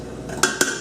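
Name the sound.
cooked apples transferred between pots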